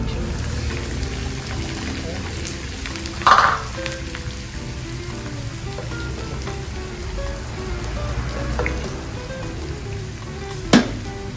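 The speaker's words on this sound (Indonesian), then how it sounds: "Kita setelah tambahkan minyak, kita goreng dulu" Oil sizzles steadily in a pan while frying ingredients for Pekalongan tauco soto, a continuous crackling hiss with a couple of sharp louder pops and faint speech mixed in.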